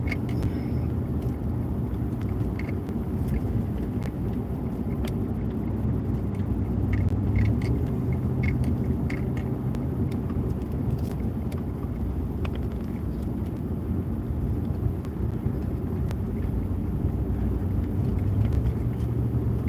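Steady vehicle road noise and low rumble from a car driving along a winding road, continuous and even throughout with faint wind buffeting and no talk.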